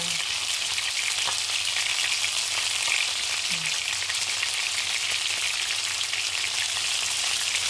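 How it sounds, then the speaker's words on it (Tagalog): Steady, dense sizzling of pork frying in a hot pan, loud and continuous with no talking. "baboy naman ang ating ipiprito"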